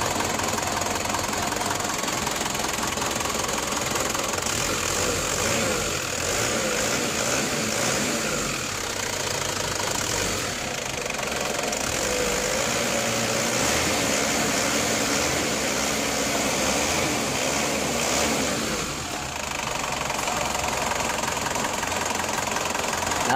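An Isuzu Crosswind diesel engine idles steadily and evenly throughout after injection pump calibration, a continuous low rumble with a faint rhythmic knock and no voices.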